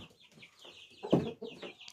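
Chickens cluck quietly in a coop with a wire-mesh window, mixing soft chirpy calls with a louder, throaty cluck near the middle. The birds are close and there is no talking.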